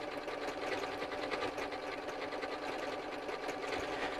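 A sewing machine stitches a decorative pattern with a steady, rapid mechanical whir and needle chatter, running continuously at close range with no voices.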